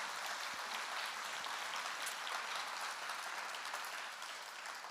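Festival crowd applause at Lotus Fest, a continuous wash of many hands clapping, fairly distant and steady, easing slightly near the end.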